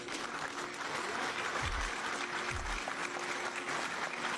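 An audience claps continuously, dense steady applause filling the space at moderate loudness, with two brief low thumps partway through.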